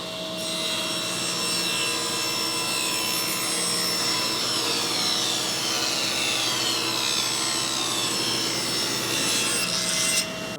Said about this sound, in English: Take my piece of wood, slide it over to the roller, tighten the fence down,